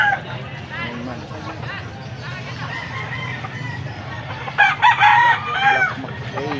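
Nine-month-old Black McRae stag rooster crowing amid a lively crowd at a gamefowl farm, the crow rising above steady talk and babble near the end.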